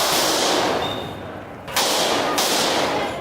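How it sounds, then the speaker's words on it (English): Gunfire at a shooting inside a Delhi court, in news footage: loud, dense bursts of noise fill the clip and cut out sharply twice, with no clear single shots and no talk. "As gunfire began, lawyers, litigants and others scurried for shelter."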